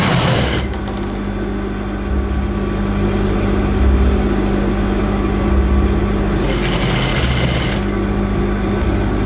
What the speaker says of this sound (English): make sure you stitch it very close to this, keep stitching